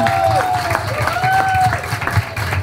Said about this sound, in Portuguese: eu queria pedir uma salva de palmas para a companheira Martinha e para as companheiras que estão ali na cozinha